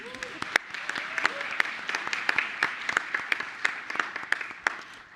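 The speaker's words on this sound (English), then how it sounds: "So another round of applause" Audience applause after a unanimous vote at a public meeting, a steady dense patter of many hands with sharper individual claps standing out, fairly close and continuous throughout with faint voices underneath.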